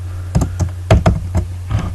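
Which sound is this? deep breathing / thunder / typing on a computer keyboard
typing on a computer keyboard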